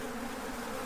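Bees buzz in a steady, continuous drone from a hole in a ceiling, fairly close and unbroken, with no voices.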